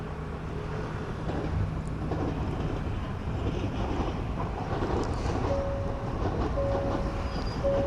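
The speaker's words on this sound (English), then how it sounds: "The train's actually coming here" Train on a railway line in Northwood, London, a steady broad rumble heard from a distance and blended with strong wind buffeting the microphone, with a faint high tonal whine appearing near the end.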